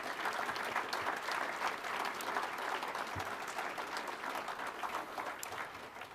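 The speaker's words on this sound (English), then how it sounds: "let's just give another round of applause to all the award winners" An audience at a state governor's service awards ceremony applauds the award winners, dense, steady clapping from a large crowd holding at an even level throughout.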